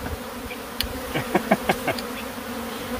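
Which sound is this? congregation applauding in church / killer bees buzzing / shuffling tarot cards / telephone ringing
killer bees buzzing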